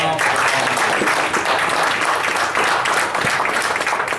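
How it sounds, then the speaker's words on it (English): A crowd gives Barry a round of applause, a thick, loud wash of clapping that stays even and sustained from start to finish with a few voices faintly underneath. "give him a round of applause"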